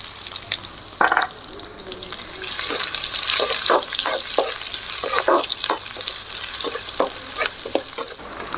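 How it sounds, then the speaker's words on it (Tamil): Onions and curry leaves sizzle in a pan for a drumstick stir-fry while a spoon stirs them, making repeated scraping strokes over a steady close frying hiss. "அடுத்தது வெங்காயத்தை போட்டுக்கலாம் இந்த கருப்பிலையும் போட்டுக்கலாம்"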